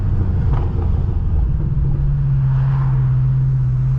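A tuned 800HP BMW M6 rumbles loudly and steadily on city streets, its turbos feeding a deep, droning engine note that holds constant with a sustained low hum.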